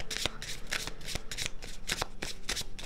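A deck of tarot cards being shuffled up close, a run of crisp riffling bursts repeating in a steady rhythm, with no voices.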